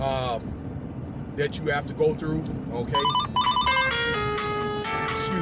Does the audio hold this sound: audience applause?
no